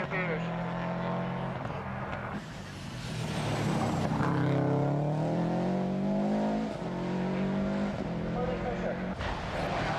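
A 1995 Subaru Impreza rally car runs a stage at Lurgan Park, its engine droning and rising through the gears with shifts and revving, heard under a commentator's talk throughout.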